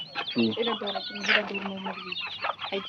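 Chickens cluck and squawk in agitated bursts, close up, during a chicken-catching contest. Voices chatter over the birds.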